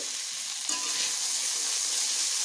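Pumpkin pieces frying in a pan give a steady, close hiss of sizzling oil that swells slightly after a brief stir and holds continuously to the end.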